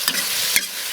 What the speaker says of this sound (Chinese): 把这炒香，我们就加入豆角和那个辣椒一起焖。